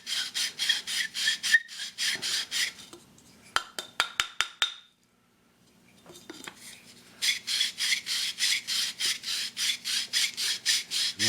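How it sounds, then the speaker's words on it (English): Ceramic water filter parts grind against each other in rhythmic rasping strokes, a steady scraping back and forth that pauses for a few sharp knocks and a brief silence before the regular strokes resume. "I can put this in here. Let it grind against each other."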